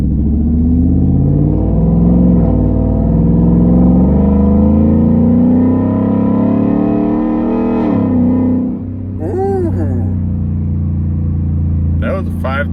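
A 2020 Ford F-150 with the 5.0 Coyote V8 and an open exhaust cutout pulls hard under trailer load, its loud, rising engine drone climbing through a high-rpm shift, with brief voices breaking in near the end.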